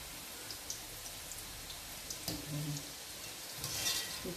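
Boondi batter sizzling in hot oil in a pan, a steady low crackle and patter of frying close by, with a few louder bubbling bursts as more batter goes in.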